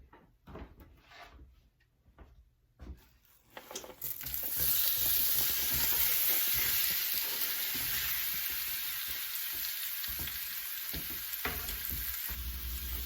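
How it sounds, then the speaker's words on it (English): Apples caramelizing in browned butter in a pan give a loud, steady sizzle that jumps in after a few seconds of quiet kitchen stirring and knocks, then holds through to the end. "So I'm going to throw the apples in here and let them caramelize a bit."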